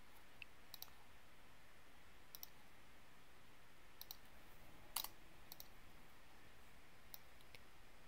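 A computer mouse on a Mac clicks while lines are selected in Rhino 3D software, with scattered single and double clicks that are faint but crisp over a low, steady room hiss.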